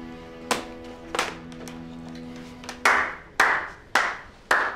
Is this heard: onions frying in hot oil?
no